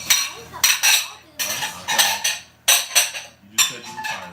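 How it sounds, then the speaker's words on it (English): Dishes and cutlery clatter in bursts as they are put away in a home kitchen, several clinking handling sounds close by with brief pauses between them. "Let's put some of these dishes away."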